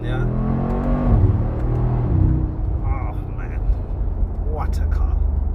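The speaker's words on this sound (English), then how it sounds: "I'll do one big acceleration" A 2019 Mercedes-AMG G63 with a 585 PS engine pulls in a hard acceleration, a deep engine note rising in pitch over a few seconds from inside the cabin. Someone talks over it.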